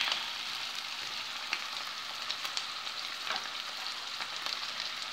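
Canned tuna fries in a pan with pasta ingredients, giving a steady close sizzle and hiss with small crackling pops throughout and no talk.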